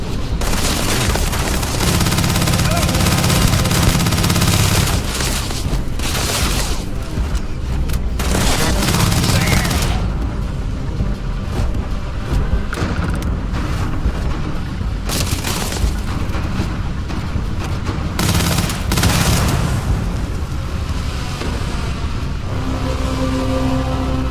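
Heavy gunfire in a Starfield sci-fi firefight: dense, continuous bursts of shots and booms that run nearly the whole time, loud and close, with engine-like roaring layered in.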